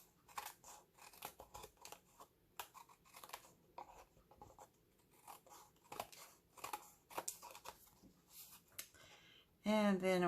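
Scissors snip repeatedly through card paper in short irregular bursts, close and fairly quiet, during Christmas tree print crafting, ending with a louder rising whir or squeal at the very end.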